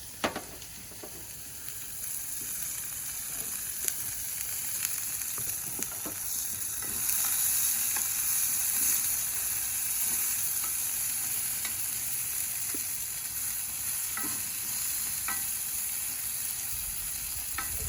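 Onions frying for butter burgers on a Big Green Egg grill, a steady close sizzle with scattered pops and scrapes that swells slightly midway and holds on.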